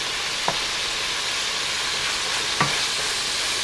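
Ground beef browning in bacon grease in a frying pan gives a steady, close hiss of sizzling throughout, with two brief scraping stir sounds standing out over it.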